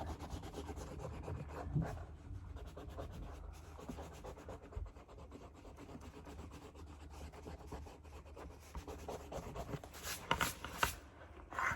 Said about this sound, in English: you're going to erase your guidelines